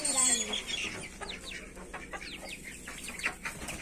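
A rooster clucks and chirps close by in short, quick bursts, with faint background noise.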